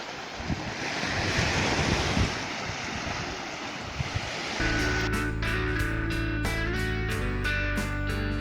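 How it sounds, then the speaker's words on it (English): Sea waves washing at Kai Bae Beach on Koh Chang, Thailand, a broad hiss of surf with heavy wind buffeting the microphone, then a steady droning tone rising beneath the water noise. "Standing in the sea on Kai Bae Beach."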